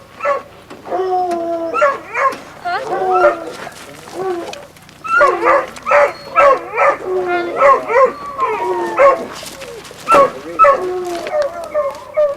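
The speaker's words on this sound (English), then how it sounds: "run some dogs" Hunting dogs on a lion hunt in the Arizona desert bark, bay and yip close by in rapid, overlapping bursts, with a few whining howls between them.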